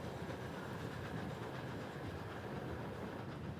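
A passenger train bound for Tashkent runs along the rails near the Turkmenistan border. It gives a steady, loud, continuous rumble with rattling wheel noise and no talk.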